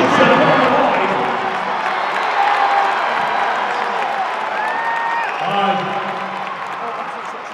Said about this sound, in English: And you can hear the crowd reacting.